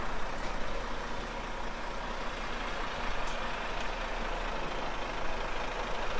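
Crane truck diesel engine running steadily just after start-up, a constant close rumble with broadband noise and no pauses or talk.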